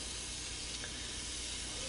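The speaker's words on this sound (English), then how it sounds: "we're just going to stick them down and let them get a little sear brown on them" Salted and peppered braising steaks sear in a pan of a one-pot French onion steak dinner, giving a continuous, even sizzling hiss throughout.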